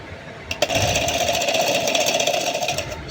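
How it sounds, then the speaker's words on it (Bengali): A sewing machine runs steadily stitching a baby frock, a close, continuous mechanical whir with a rapid needle rhythm after a brief start. "আমি উল্টো দিকে বসিয়ে কিন্তু সেলাই করে দিচ্ছি"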